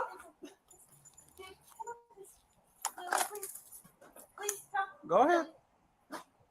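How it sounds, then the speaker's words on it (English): A family dog whimpers and gives a few short yelping barks during a police visit to a home's backyard, the cries rising near the end amid people talking and jangling keys. "the dog just came after me"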